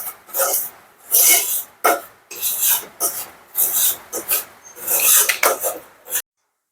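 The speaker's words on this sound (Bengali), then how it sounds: "এই যে মিষ্টি বানানোর জন্য সুজিটা ভেজে নিচ্ছে" Semolina frying in ghee for chomchom sweets, scraped and stirred around a pan in repeated rhythmic rasping strokes, close and fairly loud with brief pauses between strokes and no talking.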